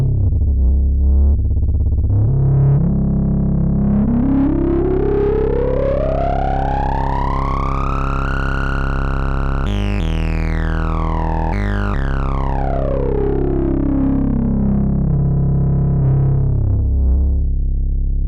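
A thick, buzzy tone from a Dreadbox Erebus or Hades analog synthesizer sweeps steadily upward in pitch, jumps abruptly, then glides back down, rich with harmonics and sustained loudly throughout.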